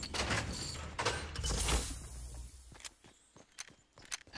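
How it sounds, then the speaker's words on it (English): Footsteps in Fortnite Battle Royale, a few distinct thumps and shuffling steps following louder bursts of game noise, quiet and somewhat distant, with no talking. "I did hear two more footsteps outside, so be careful"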